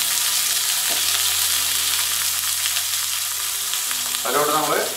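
Chopped onion and green chilli frying in a pan with cumin for a radish and spinach stir fry, a steady close sizzle with a hum underneath and a brief stirring scrape near the end.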